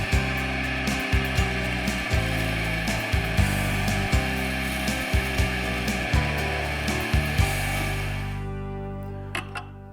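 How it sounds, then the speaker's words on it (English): A wet/dry grinding wheel hollow-grinding the bevel of a woodworking chisel, a steady motor hum with a regular pulsing rhythm of contact strokes, close and fairly loud, winding down and fading near the end. "we're just gonna turn this on and start to grind it away"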